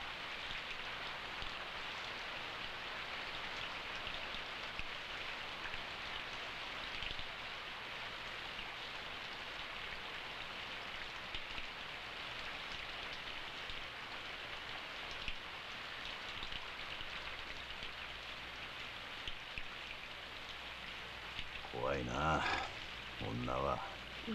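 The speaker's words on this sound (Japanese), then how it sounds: "とうとう雨か" Steady rain falls continuously, a soft hiss of drops on surfaces, with a brief voice near the end.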